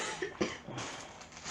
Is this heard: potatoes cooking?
no